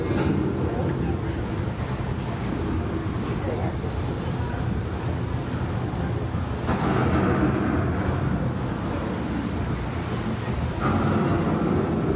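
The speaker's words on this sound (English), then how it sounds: "The approaching storm may seem violent and destructive to us, but to nature, it's a new beginning in the cycle of life." A rumbling approaching thunderstorm sound effect on an indoor theme-park boat ride, a steady loud roar of wind and thunder with swells partway through, accompanied by narration.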